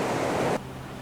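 Ocean waves crashing on a beach before sunset, a loud broad wash of surf that abruptly drops to a quieter steady hiss partway through.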